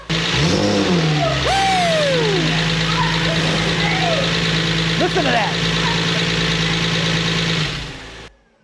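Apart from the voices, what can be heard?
Porsche 911 engine idling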